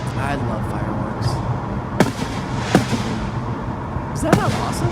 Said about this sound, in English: Great little fireworks show.